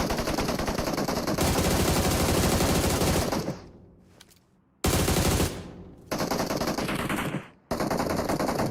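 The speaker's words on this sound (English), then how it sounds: "bullets start to fly" Bursts of automatic gunfire from an esports shooter match, loud and continuous, broken by short gaps where the sound dips before the firing resumes.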